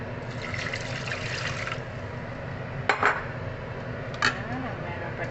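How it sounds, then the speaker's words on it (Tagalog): Water poured from a container into a cooking pot holding a cup of lentils, a continuous trickling splash followed by two sharp clanks of the pot or utensil against metal. "Tapos, lagyan natin ng water."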